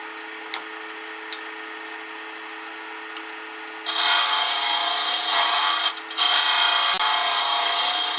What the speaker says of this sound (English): using my small flat top gouge now